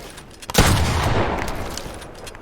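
A single loud shotgun blast in a video game bursts out after a brief quiet lead-in, followed by a long decaying echo.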